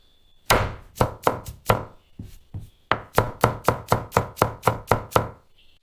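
Potatoes are chopped on a cutting board with a knife, about fifteen sharp, close knocks in quick rhythmic bursts with a short pause between runs.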